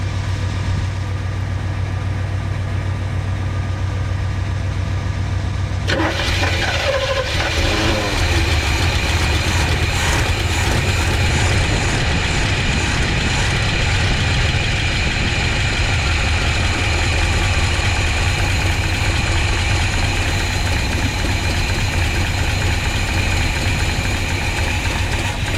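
A 1985 GMC square body pickup's 454 V8 runs throughout, a loud, continuous rough idle with a deep rumble and some knocking, the sound changing character slightly a few seconds in as it settles into a steady drone.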